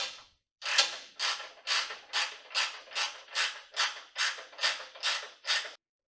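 A 3/4 inch stubby ratcheting wrench tightening a jam nut on a 2005 Jeep Wrangler trackbar, about ten quick, even ratchet clicks in a steady rhythm, close and clear with no voices.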